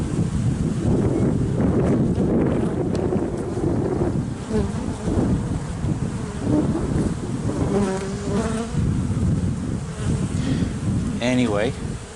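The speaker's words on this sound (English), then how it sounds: "2 hives, 2 queens, lots of bees." Honeybees buzz densely and continuously around hives in a bee yard during a March inspection, loud and close, with individual bees droning past the microphone and some wind buffeting.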